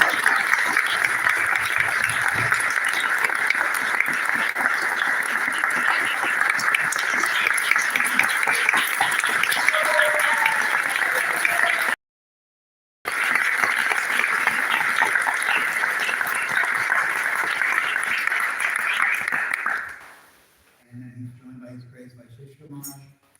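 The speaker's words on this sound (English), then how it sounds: "So, big round of applause for Hiran." Audience at a spiritual talk applauds in a long, steady, dense wash of clapping, briefly cut off midway, then fading out as quieter sounds follow.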